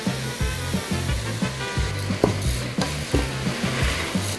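Garlic, vegetables and rice stirred in a pot: loud, close sizzling under a repeated rhythmic scraping and clacking of the utensil against the pot, with no voices.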